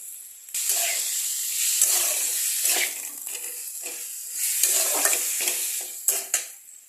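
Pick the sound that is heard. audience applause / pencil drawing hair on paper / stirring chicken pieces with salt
stirring chicken pieces with salt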